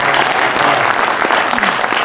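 Dense, sustained applause from a large audience at an Urdu mushaira poetry gathering, steady and loud throughout with no gaps.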